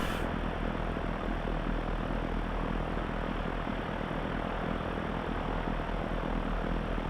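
An Alabeo M20R propeller engine idles at about 1000 RPM in X-Plane 11, a steady, loud, continuous drone with a low throb and no voices.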